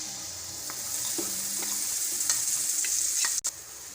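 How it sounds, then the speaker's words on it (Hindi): Masala roasts in two tablespoons of hot oil for chana chaat, a dense, loud sizzle hissing continuously with faint scrapes of stirring and a brief clunk near the end. "और मसाले को थोड़ा सा भूनेंगे।"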